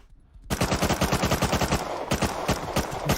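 Rapid bursts of automatic gunfire in the video game Rust start abruptly after a brief quiet moment, then rattle on loudly and steadily like a machine gun.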